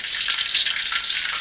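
Eggplant fries in oil in a pan with a steady, close hiss and crackle that continues evenly throughout, with no talk.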